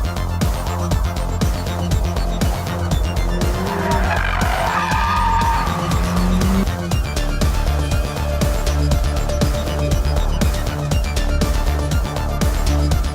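A 2016 BMW M2 makes a launch start: the engine revs hard and loud with a sustained tire squeal partway through, and continuous mechanical roar fills the whole stretch with no talking.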